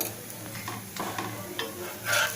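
Oil sizzles on a cucumber dosa on a hot pan set to high flame, a soft steady crackle with scattered ticks and a brief louder scrape of stirring toward the end.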